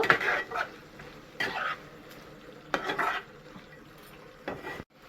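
Potatoes and spices are stirred in a frying pan, with intermittent scraping strokes of a spatula against the pan and faint sizzling between them, close up.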